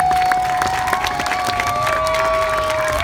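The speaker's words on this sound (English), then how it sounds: "and that deserves a round of applause." An audience in the Admiral Theater applauds, steady clapping with some crowd cheer spread through the hall, under a sustained tone, lasting the whole moment.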